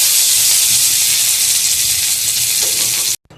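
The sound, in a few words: chopped onion frying in hot oil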